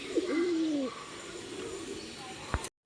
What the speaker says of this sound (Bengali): দুটো পায়রা সেট করছি খাঁচায় দিয়ে।